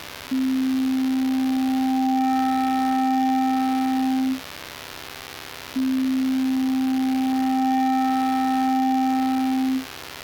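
Synthesized sine wave tones played from a SynthDef, two long steady pure hums of about four seconds each separated by a short gap, clean and alone.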